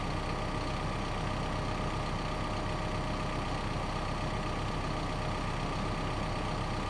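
A backhoe engine running at a steady idle, a continuous low diesel drone with an even hum and no variation in loudness throughout.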